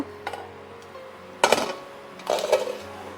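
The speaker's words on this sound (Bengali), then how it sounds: "এবার আমি ঢাকনাটা খুলে নেব" A metal lid is lifted off a cooking pot of oats and tomato soup, giving a light tick, then two sharper clinks of metal on metal spaced about a second apart.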